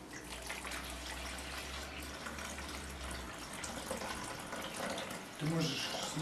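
Ordinary water is poured into a container while preparing a fuel-and-water emulsion, a steady splashing, trickling stream with a brief louder gush near the end.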